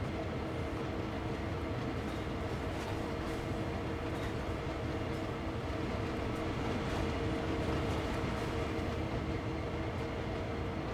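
Diesel locomotives in Train Sim World 2 on the Cane Creek line, three units of 4,400 horsepower each, give a steady, dense rumble with a continuous engine drone and faint rail noise throughout.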